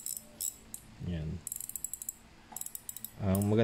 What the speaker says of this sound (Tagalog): Ang maganda lang dito nga yung tunog ng drag,